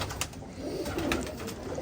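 Low, soft pigeon cooing murmurs steadily through the clip, close by, with faint background noise and no talking.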